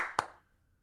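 Single sharp clap from a small group counting off, one quick burst then silence, close by.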